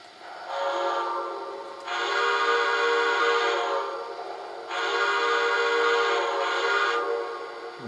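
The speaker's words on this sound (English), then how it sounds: "First we'll start with the whistle." Steam whistle of a Vision Line ATSF 2-10-10-2 #3008 "Valley Flyer" model locomotive, two long, loud, steady blasts with a short gap between them and no talking.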